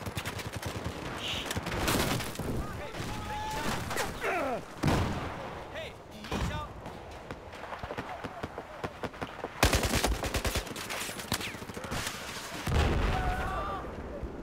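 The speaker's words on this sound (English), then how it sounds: "it came up behind me with a shotgun, the UTS-15" Heavy gunfire from a UTS-15 shotgun in the Battlefield 4 game on PC, with repeated loud close blasts and cracks layered over dense battle noise and other shots, and a voice briefly present.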